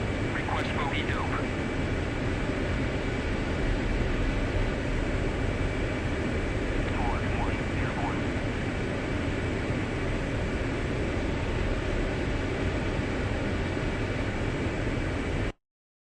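An F/A-18 Hornet jet in DCS World rolls for takeoff with a steady, loud, broadband engine roar that holds unchanged for about fifteen seconds before cutting off abruptly; brief faint chirps sit over it.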